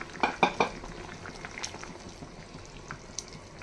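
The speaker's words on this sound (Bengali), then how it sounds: "দেখো তরকারিটা ফুটে গেছে" Vegetable dhoka curry bubbling in a covered pot, soft steady simmer with a few sharp clinks of the lid or utensil near the start, close and fairly quiet.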